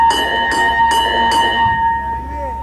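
Four sharp, ringing strikes of the starting bell at an Argentine harness racing track, evenly spaced about half a second apart, each leaving a sustained metallic hum that fades out at the end.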